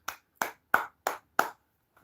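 Five sharp, evenly spaced hand claps ring out alone over about two seconds, each a crisp close-up burst with a quick decay and silence between.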